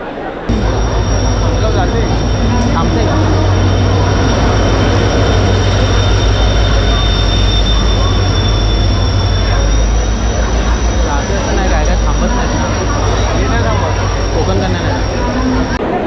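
The Tutari Express rolls into a crowded Konkan Railway platform with a loud, steady rumble and a high whine, running continuously throughout while people talk nearby.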